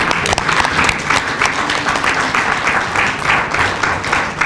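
Audience applause at a talk on Catholic congregations and health care in Senegal: a steady, dense, fairly loud patter of many hands clapping, sustained for several seconds with no speech over it.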